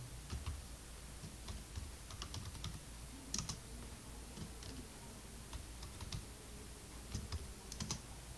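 Code is typed on a computer keyboard in soft, quiet bursts of clicking keys with short pauses between runs, close and without speech.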